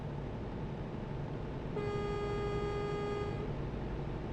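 A truck horn blares in TruckersMP during an Easter event delivery, one steady sustained honk of about a second and a half over a constant engine and road rumble.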